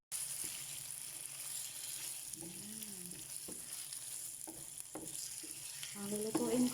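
Chicken cubes frying in a pan with a soft, steady sizzle. Scattered clinks and scrapes come through, along with some faint tonal background sounds that grow a little louder near the end.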